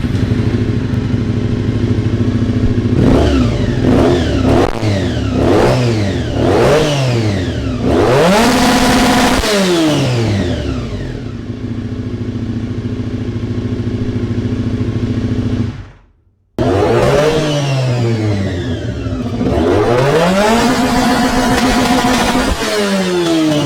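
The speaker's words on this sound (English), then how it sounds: "Let's start up the little RVF 400 from the opposite end of the Honda range" A Honda RVF 400 motorcycle engine starts and revs repeatedly in loud, close blips that rise and fall in pitch, then cuts out briefly before revving hard again.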